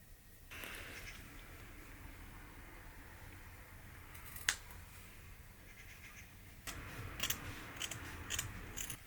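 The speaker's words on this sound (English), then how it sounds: "I'm gonna have to snip it here" Scissors snip through thrifted sleeping bag fabric during upcycling into a coat, quiet close cuts with one sharp click mid-way and a busier burst of snipping and rustling near the end.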